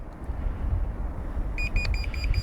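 A GPS device gives a steady run of short, high, evenly spaced electronic beeps after a long press on its speaker, starting partway in over a background hiss.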